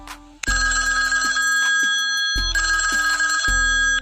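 A custom name ringtone plays loudly from a phone, a bright electronic melody with repeating ringing tones cycling in a steady pattern and no one talking.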